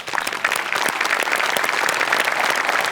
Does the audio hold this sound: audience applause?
yes